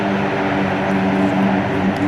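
A C-130J-30 Hercules at an airshow, its propellers shifting from reverse back into forward thrust on the runway, a loud continuous droning roar with steady engine tones.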